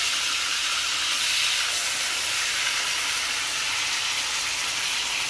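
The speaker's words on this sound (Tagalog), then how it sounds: "Ito namang kabilang side ang ipa-fry natin." A fish steak fries in a pan of oil, giving off a steady, dense hiss that holds evenly at close range for the whole stretch, with no voices over it.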